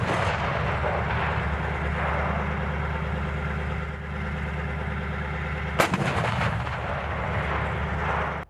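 An M109A7 Paladin self-propelled howitzer fires a single sharp round during live-fire qualification, the crack cutting through a loud, steady engine rumble that runs throughout.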